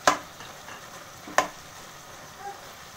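Tomatoes being stirred into minced meat frying in a pan for meethi kheema: a steady low sizzle broken by two sharp spoon-against-pan clacks, close and without voices.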